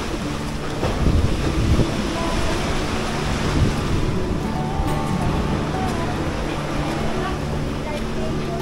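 Surf rolls onto Labuan Sait beach at Uluwatu, Bali, as a steady, loud, broad roar of breaking waves, with gusts of wind buffeting the microphone throughout.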